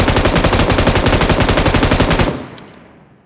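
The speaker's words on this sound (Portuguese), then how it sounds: "Mas é muito tiro, viu" Sustained rapid automatic gunfire in PUBG on the Erangel map, a dense steady burst for about two seconds that cuts off and leaves a fading echo.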